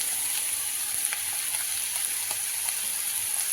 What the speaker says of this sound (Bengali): এখানে পাঁচ থেকে সাত মিনিট আমি হাই ফ্লেমে এই ফোরটাকে আর আলুটাকে ভেজে নিলাম